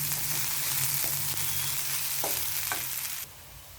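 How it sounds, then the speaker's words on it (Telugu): Capsicum and onion fry in a pan over a low flame, giving a continuous loud sizzle with a few faint clicks of stirring before the hiss drops off abruptly near the end. "ఇదిగోండి మనకిప్పుడు క్యాప్సికమ్ అండ్ ఆనియన్ 5 మినిట్స్లో చాలా ఫాస్ట్గా ఫ్రై అయిపోయిందండి."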